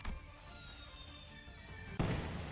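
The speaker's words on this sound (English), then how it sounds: "Okay, firework!" Fireworks in the video game Limbus Company: a sustained crackling, fizzing burst fills the scene, then a louder, sharper pop-and-crackle hits near the end, close and bright.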